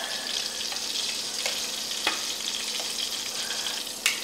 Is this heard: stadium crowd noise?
no